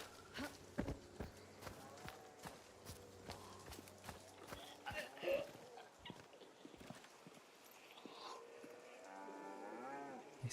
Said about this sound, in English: They set that cow off.